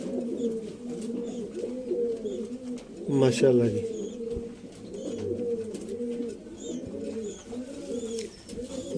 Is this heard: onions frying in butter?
no